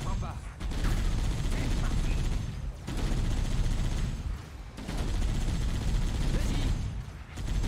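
Sustained bursts of automatic gunfire in Halo: Combat Evolved Anniversary, rattling in long continuous volleys with brief lulls between them and a voice heard faintly in the mix.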